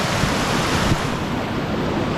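A small waterfall and creek pour over flat bedrock in a continuous loud rushing wash, close by and unbroken, with some wind buffeting the microphone and no talking.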